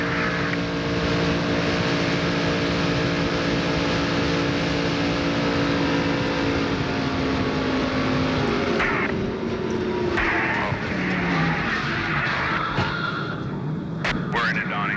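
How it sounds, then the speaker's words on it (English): A 1996 NASCAR Winston Cup race car at Talladega Superspeedway, heard from the in-car camera: a loud, steady engine drone at sustained speed with a continuous tonal roar, shifting slightly partway through, and a voice faintly audible in the background. "Now from Brett Bodine's in-car camera"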